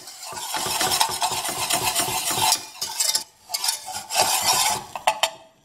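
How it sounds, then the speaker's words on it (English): Butter and flour stirred together in a pan for a cheese sauce, brisk rhythmic scraping of a utensil against the pan over a soft sizzle, close and steady with short pauses. "So mix the butter and flour really well for about 30 seconds."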